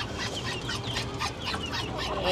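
Ducks trapped outdoors on a village homestead call out in a busy, overlapping flurry of quacks and honks, close by and continuous, with no speech.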